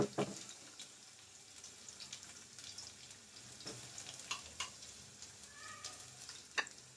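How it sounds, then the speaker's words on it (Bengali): Chopped garlic frying in hot oil in a pan, a quiet steady sizzle with faint crackles and a few small clinks, no voices. "রসুনটা একটুখানি লাল হয়ে ভাজা ভাজা হলেই আমি পেঁয়াজটা দেবো"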